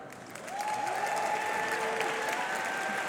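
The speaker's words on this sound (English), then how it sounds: "please join me in another round of applause for Ridhi Tariyal" Applause from the audience at the 2024 Endometriosis Innovation Award ceremony rises quickly and holds as steady, dense clapping from a sizable crowd, moderately loud with no clear speech.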